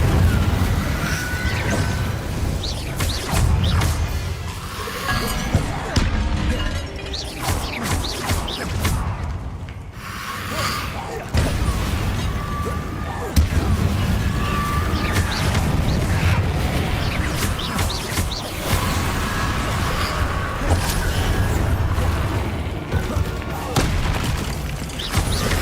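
Incendio fire spell bursts and spell combat in Hogwarts Legacy on PS5, with repeated booms, thuds and crackling impacts over a constant loud battle din, with voices in the background.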